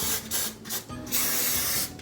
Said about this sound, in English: So I'm gonna spray it one more time.